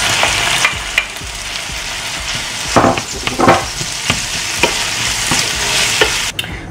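Minced meat fries in a pan, a dense continuous sizzle with scraping stirs and sharper clatters from the utensil breaking it up, fairly loud and close with no voices.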